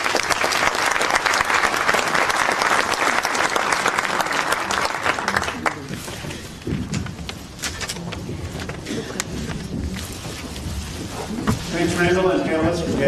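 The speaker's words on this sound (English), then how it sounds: "Let's give the panel a round of applause" Audience applause for a panel at a Virginia gubernatorial campaign event, sustained broadband clapping that swells early, eases mid-way and stays steady with scattered loud claps, murmurs and talk underneath.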